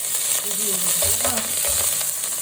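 Green chillies fry in oil in a pot for a one-pot vegetable pulao, a close, steady hissing sizzle with brief low knocks and murmurs underneath over a short stretch.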